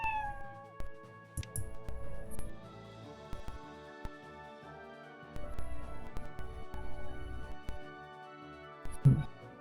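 A cat meows a few short times in a quiet indoor space, the calls faint and spaced apart among scattered small knocks and rustles, with no talking.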